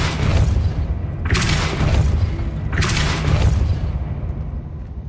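Depulso spell cast in Hogwarts Legacy: two heavy booming bursts about a second and a half apart, each a loud whooshing blast that rings out over a dense low rumble, with no talk.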